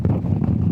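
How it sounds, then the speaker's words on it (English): Strong wind buffets the microphone outdoors on the grounds of a castle, a loud low rumble with gusty swells across the short moment. "mega windy."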